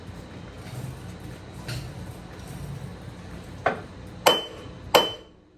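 A hammer strikes a bell three times near the end, each a bright, high-pitched clang that decays quickly after some quiet, duller tapping.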